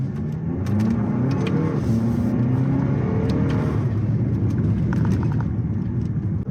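A 2023 Lexus NX 350 F Sport, driven in manual mode, accelerates hard from a stop with a sustained, rising engine note as the crossover pulls through the gears, loud and close, with no talking.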